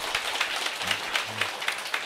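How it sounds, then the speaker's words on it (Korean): Audience clapping after a talk at a Korean company gathering, a moderate patter of hands with a few faint voices murmuring underneath. "감사의 박수 부탁드리겠습니다"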